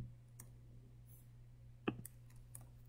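A few sharp computer mouse clicks, isolated and close, with a quiet steady hum behind them and no talking.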